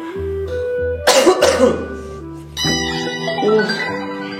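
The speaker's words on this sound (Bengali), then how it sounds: "এইভাবে না তো, আরো জোরে জোরে কাশো।" Loud, close coughing from one person comes in a cluster of harsh bursts near the middle, with steady tonal background sound before and after.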